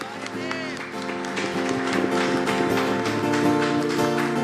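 A church congregation claps along with music during a worship service, steady rhythmic hand claps blended with singing and instruments throughout.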